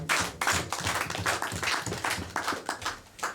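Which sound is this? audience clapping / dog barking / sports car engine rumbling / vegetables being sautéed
audience clapping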